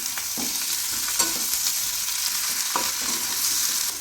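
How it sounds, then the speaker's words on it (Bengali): Chilli chicken pieces sizzle in a hot pan while a utensil stirs them, occasional scraping clicks over the constant frying hiss; no talk. "একটু নেড়ে চেড়ে"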